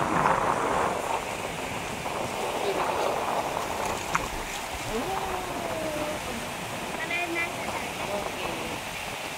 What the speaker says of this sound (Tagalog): Malakas alon.